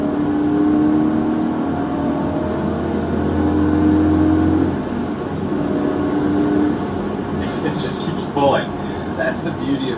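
A BMW E39 M5 engine pulls steadily under acceleration from inside the car, a loud continuous drone with a low rumble that holds for several seconds before easing off, with some later clatter.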